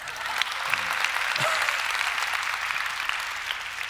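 An audience at a televised talk event applauds steadily, a dense, even wash of clapping that continues throughout with a few brief voices underneath.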